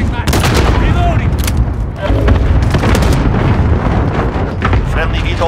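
Repeated booming explosions from a cluster strike in Call of Duty: Modern Warfare (2019), a dense, loud barrage of blasts and gunfire continuing throughout, with game voice callouts over it.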